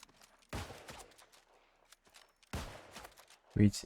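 Musket shots in the New World game, two sharp loud reports spaced about two seconds apart, then a third abrupt burst at the end, with quiet rustling and faint movement between.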